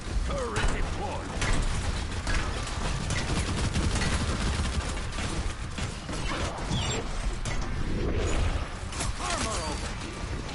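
Overwatch turret deployed in the video game, giving a steady mechanical clatter and rapid gunfire rattle that runs throughout, dense and loud with game effects layered on top.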